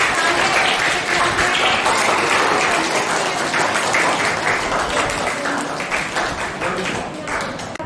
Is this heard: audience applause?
yes